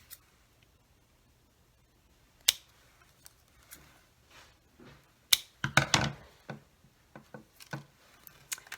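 Scissors snipping the tip off a plastic soda bottle while making a face shield, a scattered run of sharp clicks and crinkles, faint at first and then a quick cluster of louder cuts, with no talking.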